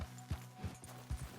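A horse in Red Dead Redemption 2 gallops with a quick, rhythmic clip-clop of hooves, faint and muffled, about four beats in a second and a half.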